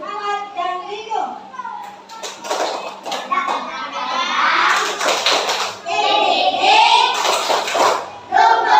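Schoolchildren in an elementary classroom clap along to a rhythmic chant, with bursts of hand claps mixed with chanting and a teacher's voice.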